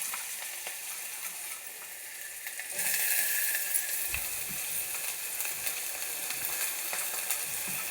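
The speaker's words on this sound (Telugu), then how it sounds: "ముందుగానండి ఉల్లిపాయ ముక్కలు వేస్తున్నానండి" Chopped onion pieces sizzle in a hot frying pan while a minumulu vankaya curry is being made, a steady broadband hiss that swells louder a few seconds in as the onions hit the oil, with occasional faint stirring clinks.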